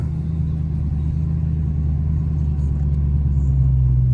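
A supercharged 900 hp Dodge Hellcat drones with a loud, steady low engine rumble heard from inside the car, and a faint supercharger whine rides on the exhaust tone without any revving bursts.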